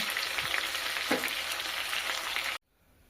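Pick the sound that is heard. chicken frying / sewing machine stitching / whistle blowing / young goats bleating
chicken frying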